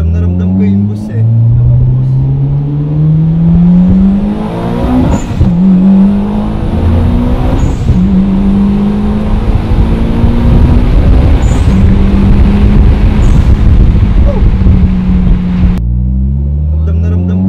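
A Mitsubishi Lancer Evolution X all-wheel-drive engine revs climb repeatedly, each rise dropping back at a gear shift, loud and close from inside the car, with people talking over it.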